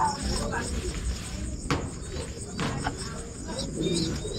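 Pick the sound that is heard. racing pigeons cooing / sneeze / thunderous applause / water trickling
racing pigeons cooing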